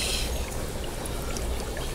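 Water pours steadily into a guppy tank full of fry, a continuous splashing trickle at close range with no talk over it.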